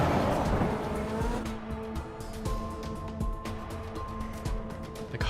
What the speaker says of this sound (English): The car emerges from the tunnel and races through the streets of the killing zone.